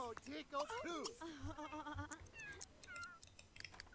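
A cat meows several times in The Sims 3 video game, short rising and falling calls close up, mixed with soft game sounds and a quiet background.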